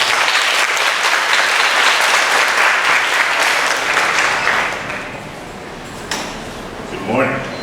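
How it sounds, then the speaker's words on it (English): Audience applause at a sixth-grade graduation ceremony, loud and steady for about five seconds before it fades, with a few clicks and a brief voice at the end. "Let's give him a little round of applause."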